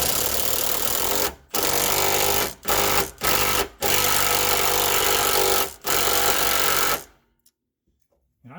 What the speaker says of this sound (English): now I'm going to use the 15mm wrench and socket with my 3/8 impact stubby